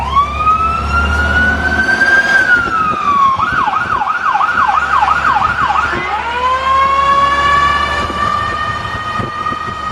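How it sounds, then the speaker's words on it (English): A loud emergency vehicle siren close by at a town kids' festival, wailing in long rising and falling sweeps, briefly switching to a fast yelping pattern before returning to the wail. "hit the siren again for them when we come through this way"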